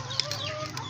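Backyard chickens from a flock of hens and a rooster cluck in a brief, close burst lasting about a second.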